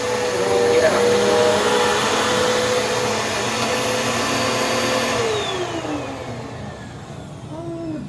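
A Bissell upright vacuum cleaner runs on carpet with a loud, steady motor whine and airflow hiss, then winds down with a falling pitch in the last few seconds.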